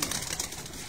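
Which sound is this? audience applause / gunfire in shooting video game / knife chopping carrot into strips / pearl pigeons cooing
pearl pigeons cooing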